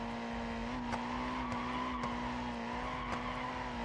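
Tires squeal continuously as an Ibishu 200BX drifts in BeamNG.drive, a sustained high screech over a steady engine drone, with a few brief clicks scattered through.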